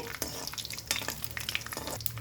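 Cardamom, cloves, cinnamon and cumin seeds fry in hot oil for cauliflower fry, a close crackling sizzle with quick stirring scrapes and spoon clicks throughout.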